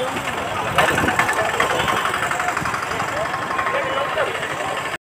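A motorbike engine runs steadily among a crowd at a Durga Puja festival in Golaghat, a loud continuous drone mixed with busy crowd noise and voices before cutting off abruptly.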